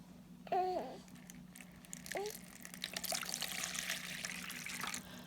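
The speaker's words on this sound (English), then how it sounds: "We have 2 cups of water measured. We're going to put it in one bowl." Two cups of water poured into a bowl, a close trickling and splashing stream that starts faintly and grows into a steady pour lasting several seconds.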